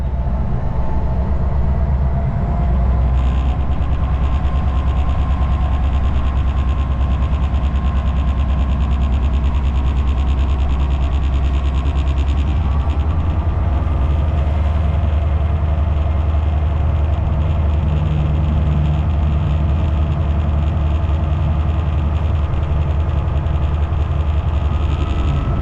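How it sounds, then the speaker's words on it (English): A heavy train hauled by a Class 59 diesel locomotive climbs a bank under power, its engine a loud, steady, deep drone with continuous wheel and rail rumble throughout. "Our driver applies the power to pull the heavy train up the bank towards Imperial Wharf."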